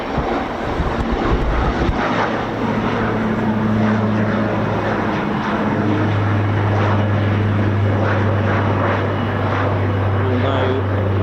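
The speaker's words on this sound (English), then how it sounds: "AB910 of the BBMF Spitfire aircraft" The BBMF Spitfire AB910 propeller engine drones steadily at RAF Fairford during air tattoo arrivals, a sustained low rumble with a commentator talking over it throughout.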